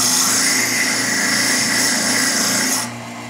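A chainsaw file rasps steadily against a spinning wooden chess queen on a lathe, a loud continuous scraping hiss over the motor's low hum that stops abruptly near the end, leaving only the lathe running.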